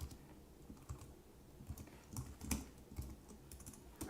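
Typing on an Apple computer keyboard in a home office: quiet, irregular key clicks with occasional heavier taps, fairly close over faint room hiss.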